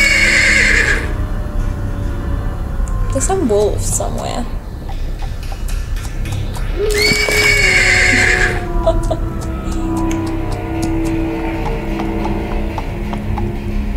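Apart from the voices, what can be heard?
horse neighing and hooves in video game (Oval Portrait gamebook)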